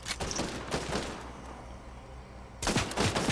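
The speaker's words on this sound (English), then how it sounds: "I'm being shot at in several different directions." Rapid bursts of gunfire crack in from several directions during a Fortnite match, a dense volley of close shots, a brief lull, then another loud flurry.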